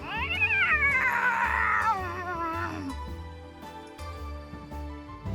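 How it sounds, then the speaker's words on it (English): A fat white cat in a visual novel game lets out a long, drawn-out disgruntled meow, loud and wavering, over soft background music. "it lets out a single disgruntled meow"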